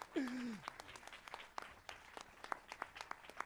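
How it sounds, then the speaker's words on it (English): Scattered claps from an audience at a startup day event, sparse and fairly distinct, with a short rising-and-falling vocal whoop near the start. "you guys are going to clap for him"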